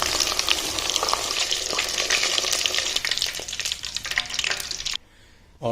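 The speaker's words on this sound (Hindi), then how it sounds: "आलू जो है इनको हम इसलिए फ्राई करने हैं कि जैसे ही ये फ्राई होंगे इनका एक टेस्ट बहुत ही ज़बरदस्त आएगा।" Potatoes fry in hot oil for a curry, giving a loud, steady, crackling sizzle with a few sharp spatters. It runs unbroken almost to the end, then cuts off abruptly into near silence just before a brief return.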